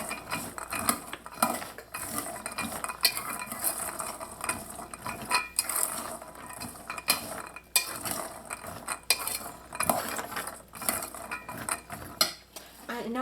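A spoon scrapes and clinks against a bowl while stirring a salt-seasoned mixture for Trinidad curried doubles. The rhythmic scraping and clatter sounds close and fairly quiet, with no talking.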